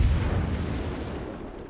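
Heavy warship naval guns fire in the World of Warships game, a single deep booming blast with a long rumbling decay, loud and close.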